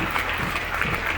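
A crowd at the Kalidas Mahotsav festival gathering in Uchchaith, Benipatti, Madhubani claps for the police officers present, a short, fairly faint patter of applause with uneven individual claps.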